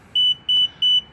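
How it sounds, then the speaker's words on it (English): Hansshow power trunk on a Tesla Model 3 sounding its setup beep: three short, evenly spaced high electronic tones, clear and alone against a quiet background. "This is pretty much your second beep."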